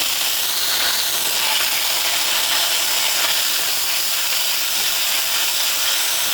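Onion paste frying in hot oil over very low heat, giving a steady, dense hiss and crackle that holds evenly throughout with no talking.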